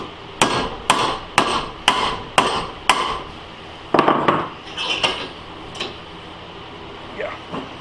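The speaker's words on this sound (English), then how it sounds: "I'm using an axe, or a hatchet, I guess you'd say" A hatchet repeatedly strikes scrap metal in a blacksmithing setting, giving sharp metallic clanks: about eight evenly spaced blows, a brief pause, then several quicker, lighter hits, close and loud.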